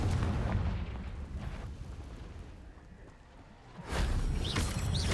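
A Confringo blasting spell goes off in Hogwarts Legacy with a loud, booming explosion and rumbling debris, then a second burst as the blast reverberates.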